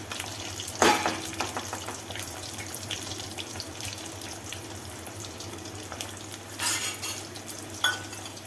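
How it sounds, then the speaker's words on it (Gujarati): Baby potatoes frying in a little oil in a home kitchen make a steady, soft sizzle, broken by a few brief stirring clatters, with no talking. "આવી રીતે માત્ર તેલ મૂકી અને આપણે તળી લઈશું બધી બટેટી"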